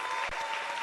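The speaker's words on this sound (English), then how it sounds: "Can we just stand and give Ntatema Caesar a standing ovation and a clap of hands?" An audience at a youth empowerment event bursts into applause during a standing ovation, a brief burst of dense clapping at moderate loudness.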